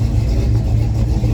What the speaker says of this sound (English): here comes a rumbly tumbly truck. This one, the aftermarket exhaust on it, sounds like